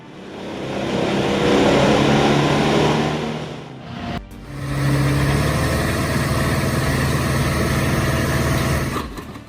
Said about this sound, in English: At first glance, this wood chipper may seem harmless, but don't let that fool you.